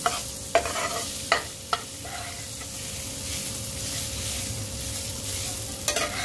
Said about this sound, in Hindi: इस तरह से आलूओं को ठीक से मिक्स करेंगे